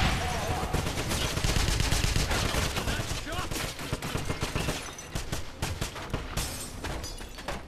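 Dense, rapid gunfire from the Wolfenstein video game, with loud overlapping machine-gun bursts running almost without a break for several seconds. A faint voice is buried underneath.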